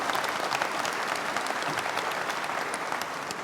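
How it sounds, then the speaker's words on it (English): Audience applause fills a large conference general session, a dense, steady wash of clapping that holds evenly loud from start to finish with no talk over it. "How about a round of applause"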